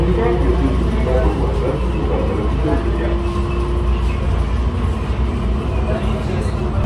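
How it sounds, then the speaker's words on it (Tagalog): An airport shuttle train pulls away from the platform at the international departure gate, giving a continuous low rumble and rolling hum inside the car, with a voice speaking over the noise. "The train is departing."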